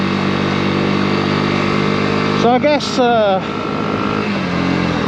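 A motorcycle with an underslung exhaust runs with a deep, beefy engine note throughout, and someone speaks briefly over it partway through.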